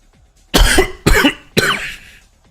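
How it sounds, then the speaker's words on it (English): A man coughs three times in quick succession, each one a harsh, loud, close burst with a short trailing rasp, and no talking in between. "I'm already breaking a fucking sweat just from fucking coughing of all things"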